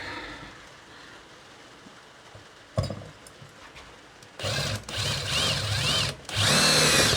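A power drill drives screws while mounting solar surge protection equipment, whirring in several loud, close bursts after a quieter stretch of handling noise.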